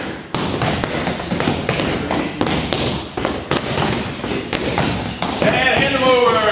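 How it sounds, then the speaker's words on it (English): Punches land on training pads in quick thuds, a couple of close, sharp impacts scattered among movement and background noise. "Give it a go. Two punches."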